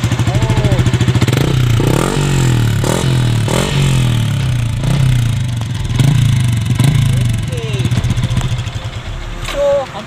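A Yamaha Y15 motorcycle engine running up close, revved repeatedly in rising and falling bursts over a steady idle, with mechanical clatter and people talking over it.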